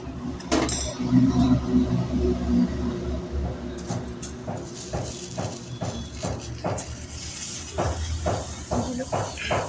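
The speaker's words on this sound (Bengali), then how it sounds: "এবারে আমি চাল ধুয়ে রেখেছি সেগুলো ডালের মধ্যে দিয়ে দেব" Washed rice tipped into lentils dry-frying in a pan for khichuri gives a brief clattering rustle, then scraping and clinking as the mixture is stirred, with someone talking over it.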